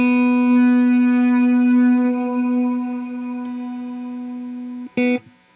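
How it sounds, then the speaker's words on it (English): A guitar runs through a Rainger FX Reverb-X reverb pedal: a sustained, ringing note carries a long reverb wash that fades gradually, then a short sharp stab near the end cuts off and leaves a quick trailing tail. "There's a trails when you release it, so it's not just going to cut the reverb completely after you"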